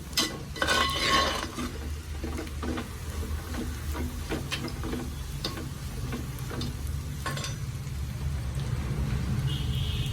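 Masala for a mackerel chilli curry is stirred and roasted in a hot pan: a constant sizzle with a regular series of spatula scrapes and ticks against the pan, close and fairly loud, with no talking.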